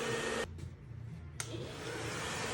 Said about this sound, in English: First, what you do is you blow dry it up, and then what we do sometimes, you blow dry it backwards, and then you blow dry it forward again.